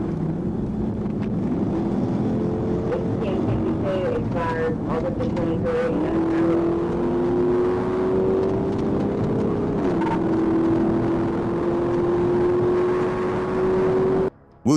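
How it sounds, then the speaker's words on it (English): Car engine roaring as it accelerates during a high-speed police chase, a loud sustained drone rising steadily in pitch with wind rush, ending in a sudden brief cut. "It accelerated, engine screaming, speedometer pushing beyond 150."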